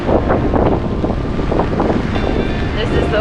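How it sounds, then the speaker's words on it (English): Strong wind on a remote island buffets the microphone in a loud, continuous low rumble and roar that never lets up, with faint voice-like sounds buried beneath it. "Windy today."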